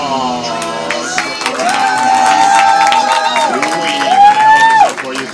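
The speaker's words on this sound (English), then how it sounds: "round of applause" Crowd cheering and whooping with scattered clapping at a live show as the host is welcomed to the stage, lively and fairly close, with voices calling out over it.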